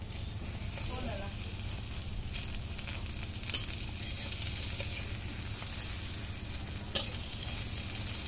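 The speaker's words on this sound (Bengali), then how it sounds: "সেই সুন্দর ডিমটা এখন একটু উল্টাই দিই" A duck egg fries in oil in a pan over a clay stove, a steady soft sizzle running throughout with a couple of sharp scraping clicks as it is flipped.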